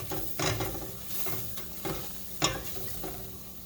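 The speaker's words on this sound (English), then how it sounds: "Keep whisking that around" Butter and flour are whisked in a pan over heat, a soft sizzle with irregular scraping strokes and light clicks of the whisk against the pan.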